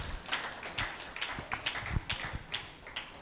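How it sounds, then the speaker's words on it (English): Sparse, uneven clapping from a small group at a regional health insurance conference in Ondo, individual claps distinct and moderately near rather than a full ovation. "I think we all deserve a round of applause"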